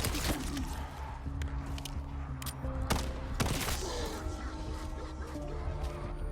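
Dense gunfire in the Black Ops 7 Zombies beta, with sharp repeated shots and bursts over continuous game noise and tonal sound effects, loud and busy throughout.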